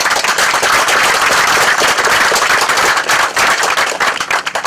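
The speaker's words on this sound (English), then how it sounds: "round of applause for that" A crowd applauds at the 2018 Lawrence Memorial Day ceremony, loud, dense clapping sustained throughout with sharp individual claps up close.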